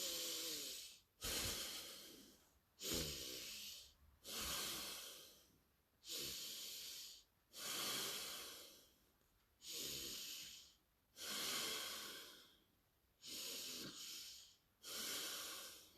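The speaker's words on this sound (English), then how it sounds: "So remember, just breathing in." Rhythmic deep breaths in a breathing exercise, eight or nine long loud inhales and exhales in steady succession with short pauses between, close and alone with no talk.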